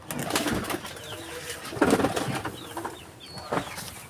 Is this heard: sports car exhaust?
no